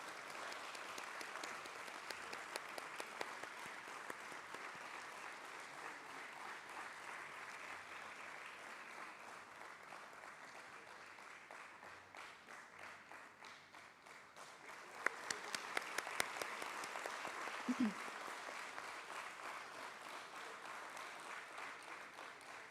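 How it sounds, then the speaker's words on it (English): Applause at a Bombay Stock Exchange listing ceremony, a long steady wash of clapping from a hall audience that dips briefly midway and then swells again with a few sharper nearby claps. "Let's have a huge round of applause, ladies and gentlemen."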